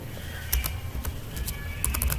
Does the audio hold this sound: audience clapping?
no